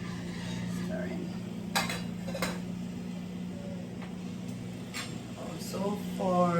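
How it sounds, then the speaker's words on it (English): Utensil scraping and clinking against a pot while stirring a boiled vegetarian dish, light intermittent taps over a steady low hum, with a voice briefly present. "Then I'll stir in order for it not to stick at the bottom. I do a little stirring."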